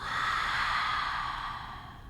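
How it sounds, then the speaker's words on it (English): A long, steady rush of breath during a vinyasa yoga core workout, close and fairly loud, holding even and then slowly fading away, with no talking. "give yourself 1 moment to breathe in and breathe out"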